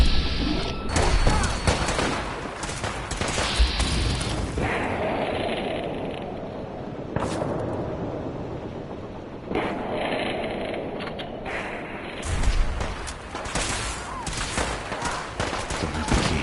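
Gunfire during a Fallout 4 fight: sharp shots and bursts crack out across the stretch, with clanking mechanical noise and crashes between volleys, and a voice speaks briefly.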